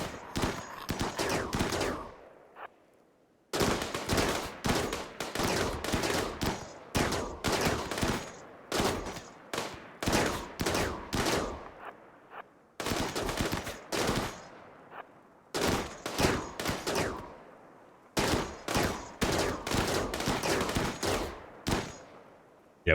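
Automatic gunfire in the video game RimWorld as colonists shoot zombies: long loud bursts of rapid shots in repeated volleys, broken by short pauses, with no talk.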